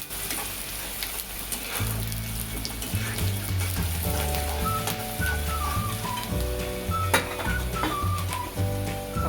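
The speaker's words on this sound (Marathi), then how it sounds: "कांदा टाकून घेतला आपण. कांदा जरा परतून घेऊया छानपैकी." Chopped onion sautés in a kadai for Maharashtrian-style brinjal bharta, giving a steady sizzle beneath looping background music.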